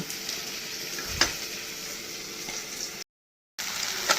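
Close, steady sizzle of onion and tomato frying in a pan, with a brief scrape of stirring and a short silent gap near the end.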